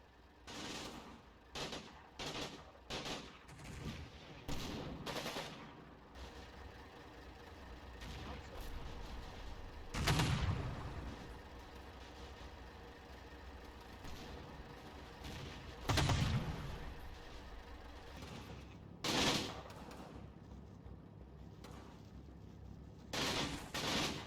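Heavy machine guns in the Combat Mission war game fire in repeated bursts, some short and some sustained, with distant rumbling booms between them and a voice talking over parts of it.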